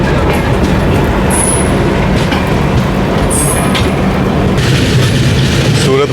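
The Surat Muzaffarpur Express rolls past at close range, a loud steady rumble of wheels with clattering and brief high metallic squeals.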